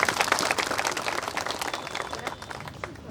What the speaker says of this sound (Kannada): ಇವ್ರ ಕಡೆಯಿಂದ ಒಂದು ಸರಿ ಚಪ್ಪಾಳೆ ಜೋರ ಚಪ್ಪಾಳೆ